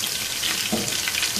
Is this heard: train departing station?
no